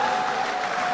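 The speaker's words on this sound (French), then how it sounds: "Est-ce qu'on peut bien applaudir pour la Grande Orientale?" A large crowd applauds at a political rally for Félix Tshisekedi, a brief, dense, loud and steady burst of many hands clapping with no talk over it.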